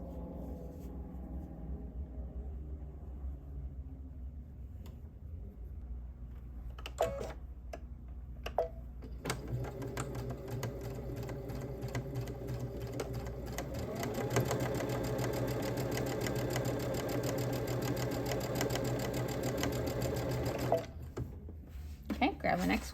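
A sewing machine chain-sews fabric triangles cut by a ScanNCut for a quilted Christmas stocking, running in a steady, close whir for a long stretch after some handling sounds, with a person talking over it.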